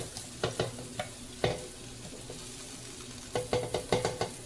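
Onions frying in oil in a pan while being stirred for a zucchini dish, a steady close sizzle broken by several sharp utensil knocks and scrapes against the pan.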